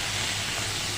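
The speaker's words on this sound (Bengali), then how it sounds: "পটলগুলো সামান্য একটু হলুদ আর লবণ দিয়ে ভেজে নেব" Pointed gourd (potol) frying with turmeric and salt in hot oil gives a steady, dense sizzling hiss that fills the whole moment with no pauses.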